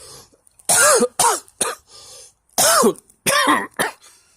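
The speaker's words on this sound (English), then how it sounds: "This coughing, by the way, is down to spores" Several harsh coughs and throat-clearing bursts from spore irritation come in two clusters, close and loud, with short silent pauses between them.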